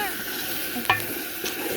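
Spice masala with water being stirred and fried in a cooking pot: a steady close sizzle runs throughout, broken by a couple of sharp spoon scrapes against the pot.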